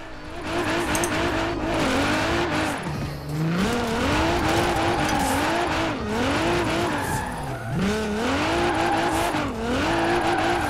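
A car slides and skids across an icy, slippery track in Forza Horizon 4, its engine note wavering up and down continuously with loud tire scrubbing throughout, no talking.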